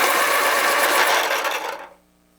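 A 4B drawing pencil being sharpened, a steady scraping grind that runs close and loud for nearly two seconds before stopping abruptly.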